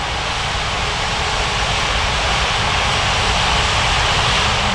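An Air Canada jet airliner taking off from runway 14 left in Sao Paulo gives off a steady, loud, broad engine roar that holds constant throughout, with no talking.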